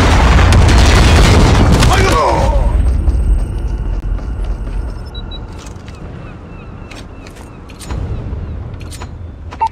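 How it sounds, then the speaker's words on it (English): A predator missile strike in the Call of Duty Mobile video game lands with a loud, booming blast that rumbles away over a couple of seconds, followed by quieter game clicks and a later low thud. "Friendly predator missile inbound."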